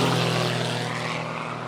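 Droning propeller airplane engine in a James Bond Jr. cartoon as a car transforms into a plane, a loud steady hum with strong low tones, heard alone and fading slightly toward the end.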